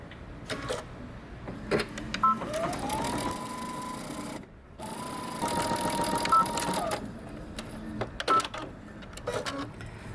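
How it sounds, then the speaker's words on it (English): Sewing machine back stitching along a fold line, several short motor runs of a few seconds each separated by pauses and clicks, close and fairly quiet. "we're gonna back stitch at the beginning. And then do the other side"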